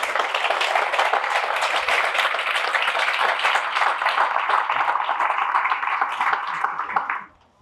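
Audience applause at a township state-of-the-community event, dense steady clapping from a large crowd that holds for about seven seconds and then fades out quickly at the end.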